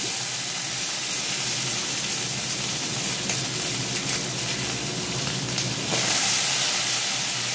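Pointed gourd frying in hot oil left over from frying lentil fritters, with dry red chillies and bay leaves, giving a steady, dense sizzling hiss that swells slightly near the end.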